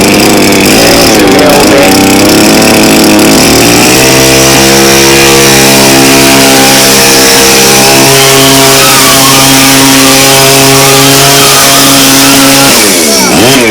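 A petrol radio-controlled buggy's small two-stroke engine, running on a slightly rich fuel mix, buzzes loudly and continuously up close, its pitch rising and holding steady, then dipping briefly near the end.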